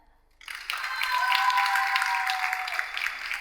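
A television game show studio audience breaks into loud, sustained applause after a brief quiet start, dense clapping with a faint crowd murmur, holding strong to the end.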